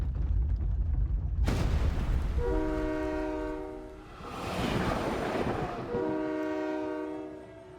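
A video-game train in Blue Archive begins moving, opening with a heavy rumble before a loud, multi-tone horn blasts twice over continuing rolling noise.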